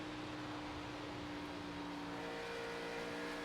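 A NASCAR Xfinity car laps the Chicago track in the iRacing simulator, a steady, faint engine drone with a constant hum and no talking.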